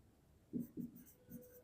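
Pen writing on paper during a maths lesson, three or four soft, close scratching strokes in quick succession against a quiet room.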